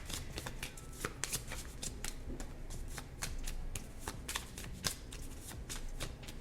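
A deck of tarot cards is shuffled close by, a continuous flutter of riffled cards with sharp snapping accents, heard alone without talk.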